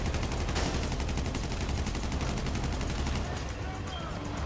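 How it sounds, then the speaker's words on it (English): Rapid bursts of gunfire from GTA crackle in a dense, continuous stream under some background noise, fading slightly toward the end. "I'm shooting them in the head."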